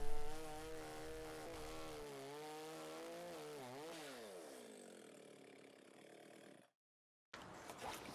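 A chainsaw revs loudly with a shifting engine pitch as it bites into a rotten tree stump, cuts out briefly, then roars back up.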